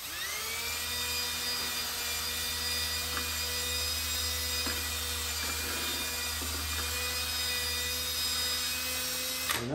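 A small wire brush wheel on a power tool scrubbing old engine parts from a 1994 Chevy S10 that sat in the woods, a steady high whining drone with faint scraping touches, continuous and fairly close.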